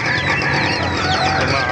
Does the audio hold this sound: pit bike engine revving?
no